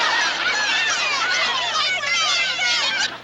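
A dense flock-like chorus of loud honking fowl calls, goose-like and overlapping, fills the air continuously and close, presented as a giant chicken in a 1969 television variety show.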